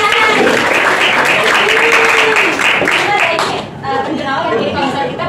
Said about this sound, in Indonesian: tepuk tangan dong buat teman kalian